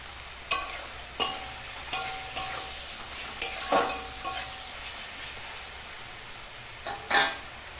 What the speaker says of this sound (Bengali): পেঁয়াজটা ভাজা হতে হতে আমি মাংসটাকে মাখিয়ে নেব